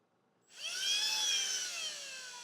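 A high-pitched power drill whines steadily after a brief quiet start, boring into animal bone for taxidermy, the whirring holding for about two seconds before easing slightly.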